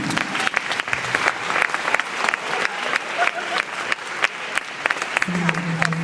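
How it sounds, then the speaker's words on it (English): Dense crowd applause at a high school hypnotist show fills the room, loud and continuous with sharp individual claps standing out and faint voices mixed in. "somewhere, again, in the distance, you hear applause"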